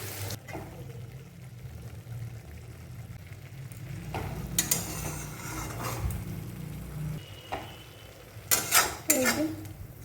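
A spoon stirs turmeric, coriander, chili and cumin into mushrooms cooking in oil, scraping and clattering against the pot in bursts over a low, steady sizzle.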